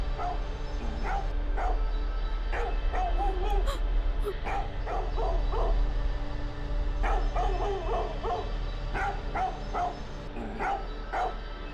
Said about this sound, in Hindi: आज ये टेसी बहुत भौंक रहा है